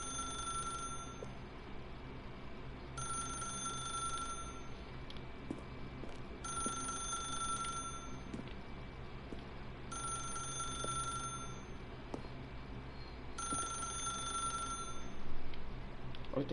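A telephone ringing inside the video game The Stanley Parable, four evenly spaced bursts of a bright electronic bell ring separated by short pauses, steady and moderately loud over a faint background hum.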